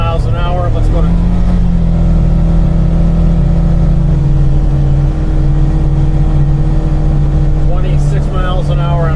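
A Polaris Ranger Northstar UTV is driven at about 4,400 RPM and 20 miles an hour, its engine a loud, steady, close drone that fills the cab throughout.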